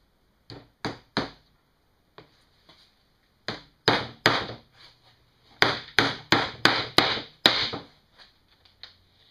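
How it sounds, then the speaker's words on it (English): Roofing nails are hammered into layered fence boards for a DIY top-bar beehive: sharp, loud wooden knocks come in short bursts, a few spaced strikes then a rapid run of blows, with quiet gaps between. "I'm just hammering it together with roofing nails"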